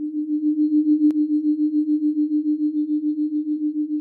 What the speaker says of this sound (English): Her only external stimulus comes from tones in her headphones.